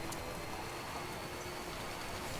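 Rain in the video game Death Stranding, a continuous soft hiss of falling rain on surfaces, steady and even with no voices over it.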